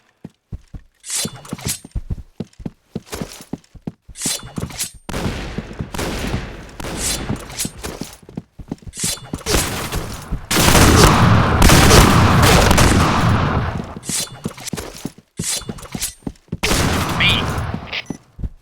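Gunfire in the video game Point Blank, with dense rapid bursts of shots and booming blasts, loud and close, plus a stretch of sustained heavy fire and a brief spoken word.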